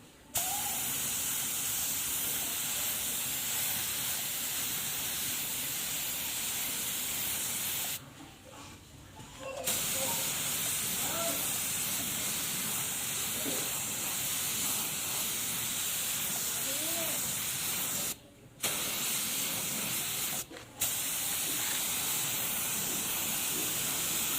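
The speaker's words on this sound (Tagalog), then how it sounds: "So, spray na natin." Aerosol spray paint hisses steadily in thin base-color coats onto a Honda Click scooter crankcase, long continuous bursts broken by a few short pauses, close and loud with no talking.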